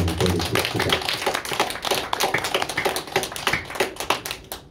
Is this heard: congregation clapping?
yes